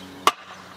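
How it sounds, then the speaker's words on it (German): A single sharp hammer strike on wood, heard close and brief, while a compost toilet is being built; quiet room tone follows. "Dein Lieblingsfreund? Der Hammer."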